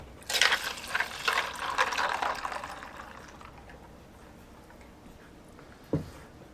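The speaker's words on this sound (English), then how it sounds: "this is just warm soapy water" Warm soapy water from a sink is poured and splashes loudly for about three seconds, then a quiet trickle lingers, with a brief knock or splash near the end.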